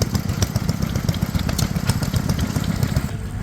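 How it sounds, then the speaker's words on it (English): Vintage ride-on mower engine idling at an outdoor vintage engine rally, a close, loud and rapid irregular chugging with sharp crackly pops throughout, no voices. "Got a couple of vintage ride-on mowers."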